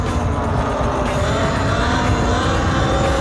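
Talaria Sting R electric dirt bike being ridden, a steady loud rushing drone of motor and wind noise with rough low rumble throughout, no pauses.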